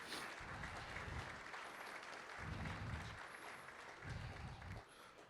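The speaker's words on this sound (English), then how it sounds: "give her a round of applause" A luncheon crowd at a community cultural diversity gathering claps for a volunteer, a steady wash of many hands across the room with a few low rumbles of movement underneath, tapering slightly at the end.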